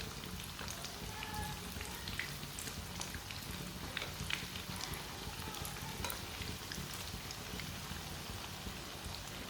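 Leftover rice kebabs frying in a pan over medium heat, a steady dense sizzle and crackle with small pops throughout, no voices.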